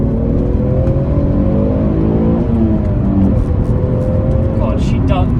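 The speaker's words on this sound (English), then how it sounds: "She really does accelerate when you get on it like that." A front-wheel-drive Alfa Romeo 156 GTA with a 3.2-litre V6 accelerates hard, its engine note climbing steadily through the revs heard from inside the car, with someone talking over it.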